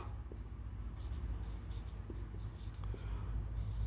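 Pen or marker writing on a board or paper, close and quiet, with short scratching strokes in an uneven rhythm over low background hum.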